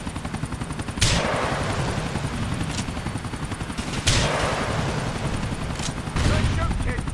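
Helicopter rotor drone and bursts of gunfire in the video game GTA 4, with repeated loud shots breaking over a steady chopping engine hum throughout.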